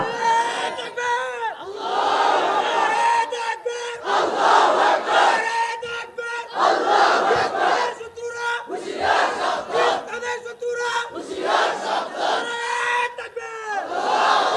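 A large crowd at an Islamic religious gathering in Netrokona roars the takbir chant in loud, repeated rhythmic waves, each call rising and breaking off before the next swell, with no separate talking.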